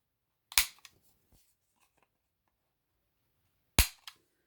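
A corner rounder punch clips the corners of paper in two sharp, close, snapping punches a few seconds apart, each followed by a faint rustle of paper in an otherwise quiet room.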